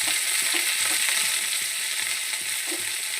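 Whole cumin, chopped ginger and chopped coriander leaves fry in a pan with a bright, even sizzle up close. Light intermittent clicks and taps punctuate the short burst.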